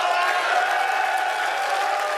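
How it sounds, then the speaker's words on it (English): An audience at an Xbox XO19 presentation applauds and cheers in a dense, steady wash of clapping that holds at an even level for a couple of seconds. "I'm going to let them cheer at that one"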